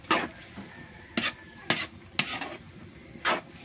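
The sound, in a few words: stirring bamboo shoots frying in a pan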